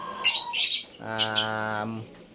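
African lovebirds call nearby in short bursts: quick high chirps, then a sustained squawking cry, then another brief chirp.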